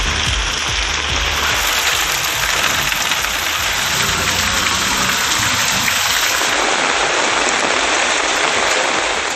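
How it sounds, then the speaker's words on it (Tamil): Moderate rain falls steadily around a town in Tamil Nadu, India, a dense, continuous hiss of drops on surfaces that stays loud and even throughout, with no voices. "அருப்புக்கோட்டை சுற்றுவட்டாரத்தில் மிதமான மழை பெய்தது."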